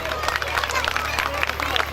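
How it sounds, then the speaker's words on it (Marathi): Audience applause at a village Khel Paithnicha show in Dhalgaon, a steady patter of many hands clapping with crowd murmur mixed in, moderately loud and continuous throughout. "यांच्यासाठी जोरदार टाळ्या होऊन जाऊ दे"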